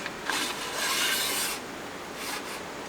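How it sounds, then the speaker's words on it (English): A metal bar scrapes as it slides into the T-channel of the resaw fence on a Grizzly G0513A40 17-inch 2 HP bandsaw, a close grating rasp in two strokes with no talking. "this piece of metal here is going to slide in to this T-channel on the resaw fence, so we'll go ahead and slide that in"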